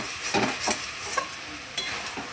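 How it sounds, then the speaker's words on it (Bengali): Spice paste, loosened with a splash of water, sizzles steadily as it is stir-fried in oil for a long bean and potato dish. A constant hiss runs throughout, with soft scraping strokes of stirring at intervals. "মশলার বাটি ধুয়ে একটু জল দিয়ে আবারও খুব সুন্দর করে কষিয়ে নেব"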